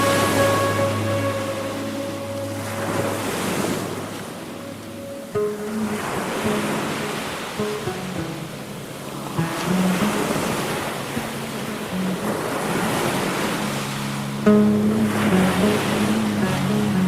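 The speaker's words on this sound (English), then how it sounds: "only the sound of waves lapping the shores." Sea waves lap the shores of Ghoramara island in the Sundarban at night, a steady surging wash with swells rising and falling throughout, mixed with a low engine-like hum and wind, no voices.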